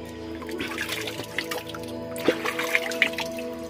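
Spring water trickling and dripping in a hill stream, a steady close babble with occasional brighter plinks and splashes standing out, no talk.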